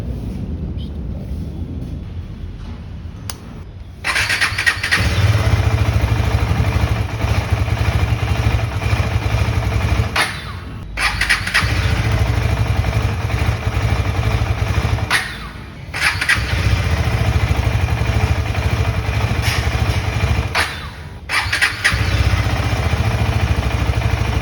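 A KTM Adventure motorcycle engine (250 or 390) cranks and catches, stalls, and restarts over several attempts, each run a loud steady rumble broken by short dips as it cuts out before holding on the fourth try.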